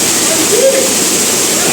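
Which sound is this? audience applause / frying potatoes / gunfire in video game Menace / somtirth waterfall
somtirth waterfall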